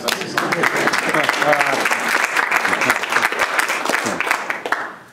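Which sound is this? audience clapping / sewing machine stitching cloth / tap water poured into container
audience clapping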